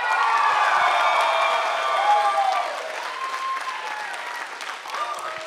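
A live comedy show audience applauds and cheers loudly at first, then the crowd noise settles to a lower, steady clapping with scattered shouts and whoops, voices mixed in.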